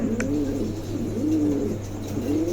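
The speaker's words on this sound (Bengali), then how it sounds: "খুবই চমৎকার এক জোড়া কবুতর আছে" A pair of pigeons cooing nearby, several soft rolling coos repeating in a gentle rhythm over a low steady background hum, with no talk.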